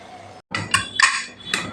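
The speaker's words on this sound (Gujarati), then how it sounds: "આપણે અહીંયા આપણે ડીશ ઢાંકી દઈશું માથે અને કુકર બંધ કરી અને પાંચ સીટી લઈ લઈશું" Metal clinks and clatters sound as a plate covers the food and a pressure cooker lid is closed. A short silence is followed by three or four bright, close knocks.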